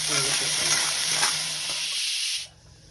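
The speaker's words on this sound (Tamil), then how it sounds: "கடுகு, பட்டை மிளகாய், இதில் கொஞ்சம் காயம், உப்பு இந்த வெங்காயத்திலே போட்டு வதக்கிட்டோம்னா ஒத்தாப்புல சேர்ந்து வரும்" Chopped onions sautéing in a hot pan with mustard seeds, cinnamon, chili, asafoetida and salt give a loud, steady sizzle and hiss while being stirred, which drops off abruptly near the end.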